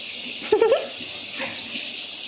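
A kitchen tap runs steadily as a whisk is rinsed under it, a soft continuous water hiss with a brief vocal sound near the start.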